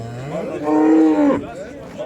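A cow gives a loud, close moo at a busy livestock market in Kırıkkale, Turkey, a single drawn-out call rising and falling over a murmur of background crowd noise.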